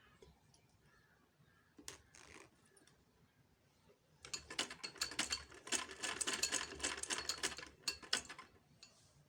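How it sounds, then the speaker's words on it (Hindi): A sewing machine stitching a zip onto a kurti, a faint start with a few brief clicks, then a steady rapid mechanical whir of stitching for several seconds that slows and stops. "इसी तरह से हम इसको ऊपर जिप के साथ अटैच करते जाएंगे और सिलाई लगाते जाएंगे।"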